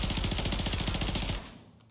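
A video game gun fires a rapid automatic burst, loud and rhythmic for over a second, then cuts off abruptly to near quiet.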